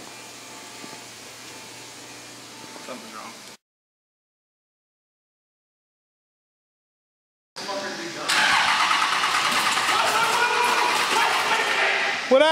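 Cummins diesel engine cranking on its first start, the starter churning steadily before a gap of silence, then the engine catching into a loud, rough, rumbling run, with voices shouting over it.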